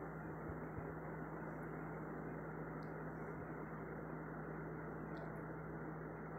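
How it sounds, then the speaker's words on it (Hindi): Broad bean pods fry in oil for a village-style raw tamarind pickle, giving a steady, fairly faint sizzling hiss with a low hum beneath it and no break. "ये सेम की फली को तल रही हूँ मैं कच्ची इमली के अचार में मिक्स करने के लिए"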